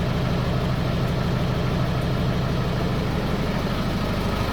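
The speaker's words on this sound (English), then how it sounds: "Nice clean exhaust on it though." Steady low diesel engine idle from a 1990 vehicle, constant and fairly close, with no talking and no change in pitch.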